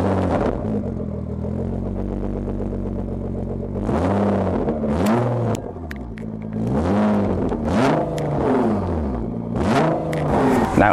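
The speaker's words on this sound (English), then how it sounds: "Nissan GTRs have that distinct sound that Nissan creates, and I love this car, especially because of that exhaust note." A Nissan GT-R with a 3.8-liter twin-turbo V6 revs repeatedly, a steady idle drone followed by several sharp rising and falling exhaust blips, close and loud with no talking.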